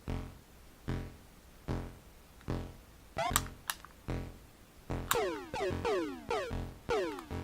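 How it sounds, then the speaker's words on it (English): A Mattel Intellivision controller disc clicks back into place, with repeated sharp clicks mixed among a steady pulsing thump and bright descending electronic chirps from the game. "That clicking sound is the sound of me letting off of the disc on this controller."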